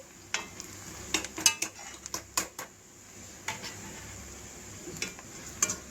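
Onions fry in a pan for potato kurma under a soft, constant sizzle, with repeated clinks and scrapes of a spoon stirring them at an uneven pace.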